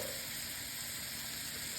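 Steady, close sizzling of steak frying in butter in a pan, a continuous crackling hiss with no talking.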